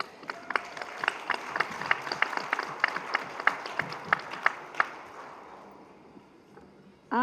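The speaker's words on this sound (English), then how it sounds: "I want you to give yourselves a round of applause." Audience members at a community forum on synthetic drugs clap for themselves, distinct individual claps rhythmically spaced in a modest room, fading out over several seconds before a voice briefly begins at the end.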